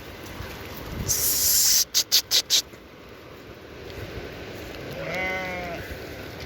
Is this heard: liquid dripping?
no